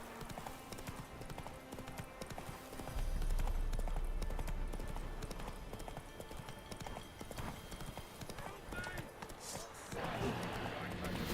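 Horse hooves clip-clop steadily in The Witcher III, a brisk rhythmic gait over a busy game soundtrack with occasional distant whinnies, the trotting loud and close throughout.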